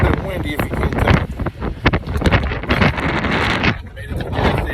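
Gusty wind noise batters the microphone while driving an LS-swapped car, loud irregular bursts and crackling buffets rising and falling over a constant road rush.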